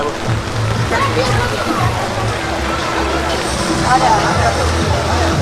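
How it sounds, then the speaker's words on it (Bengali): A water fountain splashes steadily at a colourful outdoor spot in Colmar Tropicale during rain, with a broad wash of water noise under a babble of crowd chatter and children's voices throughout. "এই পাশটাতে একটা পানির ঝর্ণা রয়েছে"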